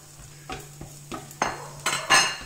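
Beans, garlic and chorizo stirred in a pan for fried rice, a series of short scraping and clinking strokes of a utensil against the pan, growing louder toward the end over a faint sizzle.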